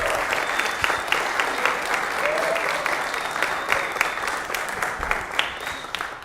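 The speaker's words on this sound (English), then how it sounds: "Let's give a round of applause" Audience at a Lutheran high school concert claps in appreciation, a full, steady round of applause with a few sharper individual claps and faint voices mixed in.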